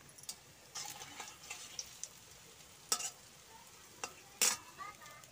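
Palm fruit fritters (taler bora) fry in hot oil with a quiet sizzle, punctuated by several sharp crackles and spatula clicks spaced irregularly.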